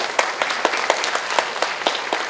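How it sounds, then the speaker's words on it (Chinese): An audience in a university lecture hall applauds, a dense, steady patter of many hands clapping at close range with sharper individual claps standing out, and no talking over it. "请大家给他掌声"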